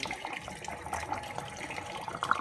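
Antifreeze trickling out of the water pump area of a Vauxhall/Fiat 1.3 CDTi diesel engine into an oil drainer, a soft continuous liquid dribble and patter, faint and close, with no talking.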